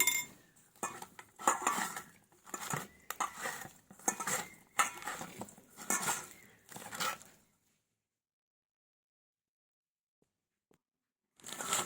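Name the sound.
mixing vegetables with turmeric and salt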